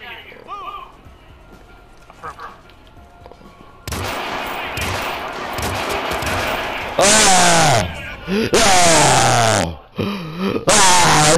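Rapid bursts of gunfire in the Hitman video game come in loud, dense volleys after a quieter opening, with a voice talking over the shooting.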